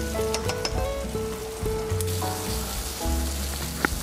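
Onion fries gently in a pan, giving a light, crackling sizzle under clattering utensil and pan knocks, close by.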